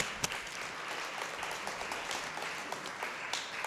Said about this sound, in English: Let us give an applause for that.